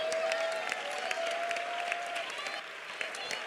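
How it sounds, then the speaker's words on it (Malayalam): A church congregation at a prayer centre claps hands in praise, a steady close patter of applause with voices calling out beneath it. "കൈയടിച്ച് ഉറക്കെ സ്തോത്രം പറ"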